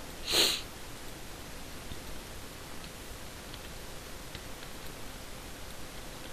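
Animals sniff at a sock in the video game Star Stable, one short, breathy sniff at the start, then only a quiet hiss of background noise.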